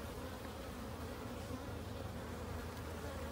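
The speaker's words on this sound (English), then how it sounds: "And they're swarming all around me. They're very nice bees." A dense, continuous buzzing of many honey bees swarming close around during a hive transfer, steady and droning without any talk.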